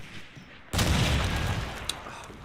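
A grenade in Call of Duty 2 detonates in a sudden loud burst, followed by a rumbling, decaying blast tail.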